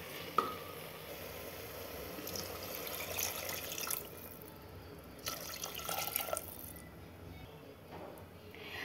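Water pours into a pot of rice during cooking, a soft splashing trickle with brief louder gushes and a light sizzle from the hot pot.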